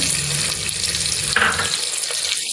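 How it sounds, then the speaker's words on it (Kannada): Chopped onions fry in a pan with a steady, close, loud sizzling hiss that runs throughout, with a brief scrape partway through. "ಸ್ವಲ್ಪ ಫ್ರೈ ಆಗಲಿ. ನೀಟಾಗಿ ಫ್ರೈ ಆದಮೇಲೆ"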